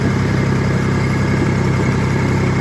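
A cabless tractor pulling a roller in the rain gives a loud, close, steady engine chug with a regular low throb and vibration, with no talk.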